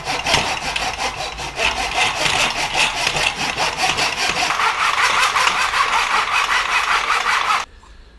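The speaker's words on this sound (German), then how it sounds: "Ja, die Säge ist ja mega stumpf, die ist ja göttlich." A blunt hand saw cuts wood in fast, regular rasping strokes, loud and close. The strokes continue steadily for several seconds, then stop abruptly.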